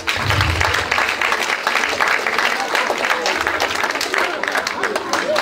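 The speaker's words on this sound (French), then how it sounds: "je veux que vous les applaudissiez" Loud, sustained applause from a crowd at a gathering, a thick continuous rattle of many hands with some low murmuring voices mixed in at the start.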